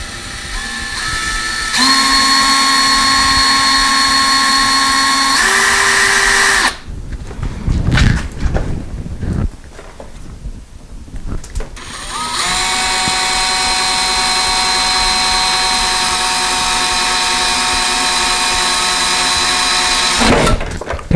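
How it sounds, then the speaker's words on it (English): A power drill bores holes through a door for a cat door, its motor whining loud and steady with pitch shifts as the bit bites, a rough grinding break midway, then a long sustained run. "let's drill those holes through the door itself"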